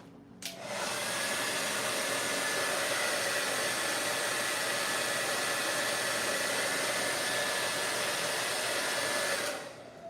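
A hair dryer runs steadily at close range to dry paint, starting abruptly, holding an even, loud whoosh for about nine seconds, then cutting off.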